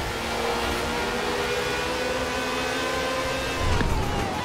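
A Lykan Hypersport in Forza Horizon 4 holds a steady, sustained engine drone, then surges louder with a quick rev near the end; no voices over it.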